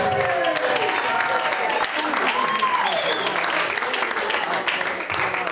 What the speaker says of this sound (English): massive round of applause. Start clapping now, start cheering now.